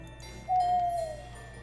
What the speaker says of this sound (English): That fucking owl is so loud.